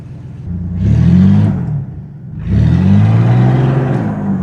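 A BMW E46 engine, cold after three months parked, revs up twice in loud swelling surges with a brief idle dip between them, heard close and without talk.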